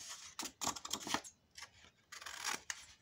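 Scissors snip through paper on the bias while assembling a handmade paper album, a series of short crisp cuts in two bursts with a brief pause between, close and fairly quiet.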